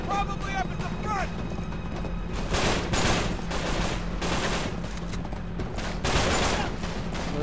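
Bursts of automatic gunfire in the video game Uncharted 3 Drake's Deception on PS4, set in a settlement, rattle repeatedly in quick volleys, mixed with game sound effects under a player's talk.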